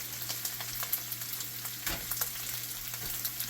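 Translucent onions and vegetables sizzling softly in a pan as cream cheese goes in, with a steady low frying hiss and a few light stirring scrapes and clicks, no voices.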